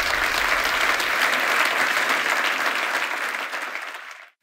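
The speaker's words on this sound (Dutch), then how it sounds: "mag ik een hartelijk groot applaus voor André Kuipers" Audience gives a warm round of applause for astronaut André Kuipers at an interview event, a thick, even roar of many hands that holds steady and then fades out.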